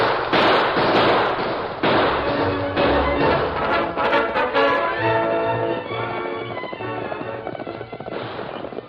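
Rapid bursts of gunfire ring out in an old 1940s Western radio drama as pursuers shoot at two riders, loud cracks layered over galloping hoof sound effects and music, running continuously throughout.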